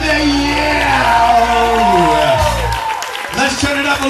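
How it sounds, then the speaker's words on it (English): A live concert crowd at a show applauds and cheers loudly, with whoops and shouted voices rising over the clapping and music. "Give yourself a big round of applause, make some noise out there."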